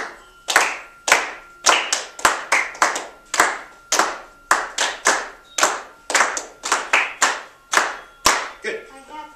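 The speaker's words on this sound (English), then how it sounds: "We're going to clap along" Hands clap together in a steady rhythmic beat, sharp and close, keeping time with brief gaps between bursts of claps.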